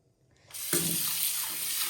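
Tap water runs into a sink as beans are washed before soaking, starting abruptly after a moment of quiet and then flowing steadily, close and fairly loud.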